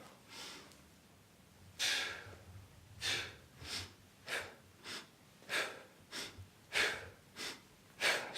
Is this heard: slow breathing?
yes